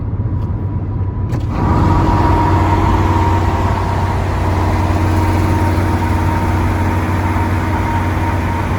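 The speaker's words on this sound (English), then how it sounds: "Kind of hear the engine humming." A classic car engine, a Bel Air at Texas Motor Speedway, idling with a steady low hum and rumble, close by and continuous, with a faint high whine after the first second.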